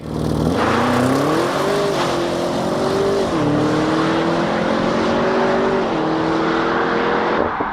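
A racing car's 4.4-litre twin-turbo V8 in Driving Empire roars loud and continuous at high revs, pitch stepping up and dipping through gear changes with no talking.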